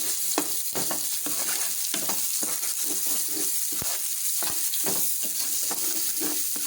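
Ground ginger paste and turmeric fry in hot oil while being stirred, a loud constant sizzle punctuated by regular spoon-on-pan scrapes and taps, close and without speech.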